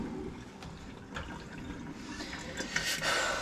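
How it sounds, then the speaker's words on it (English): Water draining off boiled potatoes in a pot for scalloped potatoes, a steady, moderately close wash of pouring and splashing liquid that grows slightly brighter toward the end. "and then you drain them"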